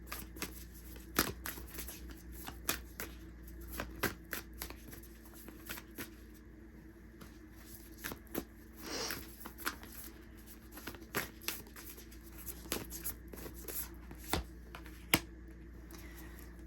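Oracle cards being shuffled by hand in a quiet room, with soft, irregular riffling and card taps repeating through the stretch, close and fairly faint.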